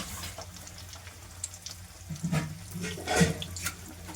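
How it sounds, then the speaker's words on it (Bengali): Chicken pieces slipped one by one into hot oil, giving a moderate hissing sizzle that swells in short bursts, with no voices. "দেখতেই পাচ্ছ চিকেনটাকে আমি দিয়ে দিলাম তেলের মধ্যে"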